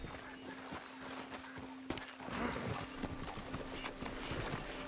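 Horse hooves clip-clop at a steady trot in the Red Dead Redemption 2 video game, moderately loud over a low background hum, with a brief whinny-like sound partway through.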